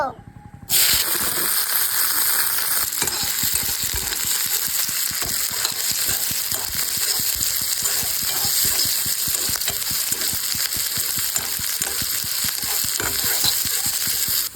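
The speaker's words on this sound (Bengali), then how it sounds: "পেঁয়াজ কুচিও ভেজে নিব।" Chopped onions fry in hot oil in a pan, a steady, loud, dense sizzle that starts abruptly after a brief quiet moment and keeps crackling evenly throughout.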